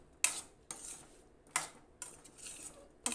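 A spoon clatters against a pan while salt is mixed into a brinjal and potato curry, four or five sharp metallic knocks separated by quiet scraping, close and fairly faint.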